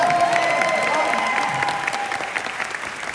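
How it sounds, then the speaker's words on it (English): Film festival audience applauding in a theater, a dense steady wash of clapping that fills the room, loud and continuous before easing slightly toward the end, with no talk over it. "Take that applause, Sean."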